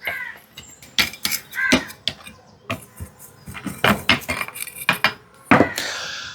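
Soil scraped and stirred in an Adenium plant pot to mix in DAP and potash fertilizer, a run of sharp gritty scrapes and clinks, close and fairly loud, with no talk.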